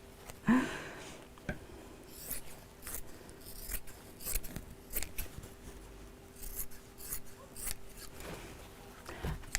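Scissors snip out craft pieces in a string of close, crisp cuts and rustling slides, irregular bursts spread through the stretch, with no talking over them.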